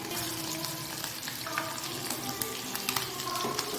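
Viral (murrel) fish frying in a pan, a dense, steady sizzle and crackle of hot oil with a few scraping turns, close up and without talking.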